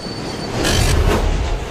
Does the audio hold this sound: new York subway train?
yes